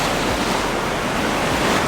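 Waves wash steadily up a beach in a continuous, loud roar of surf with wind noise over it, and no voices are heard.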